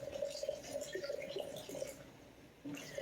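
Tap water pours steadily from a bottle into a bowl on a kitchen scale while making sourdough bread, a close, continuous trickling and splashing with a brief bubbling surge at the end and no voices.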